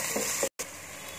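Chopped onions sizzle with ginger garlic paste in a pan for a dahi bendakaya masala curry, a steady close hiss of frying that drops out for a split second, then carries on.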